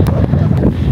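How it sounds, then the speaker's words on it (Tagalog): Strong gusts batter the microphone on a seaside skywalk walkway, a loud, steady low roar of wind noise running through the whole moment, with no voices over it. "Ang hangin guys."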